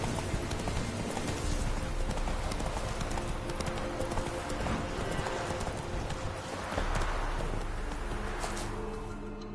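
Roach, a horse in The Witcher 3, gallops with steady, fast clip-clop hoofbeats throughout, loud and close over game music, with a brief whinny.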